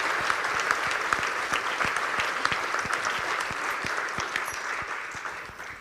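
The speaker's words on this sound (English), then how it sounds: "Can we give our torture victim a round of applause?" Audience applause following a staged human rights demonstration, a full crowd clapping steadily for several seconds and gradually tapering off toward the end.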